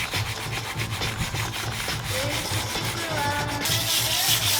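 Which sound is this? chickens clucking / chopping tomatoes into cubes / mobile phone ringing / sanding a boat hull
sanding a boat hull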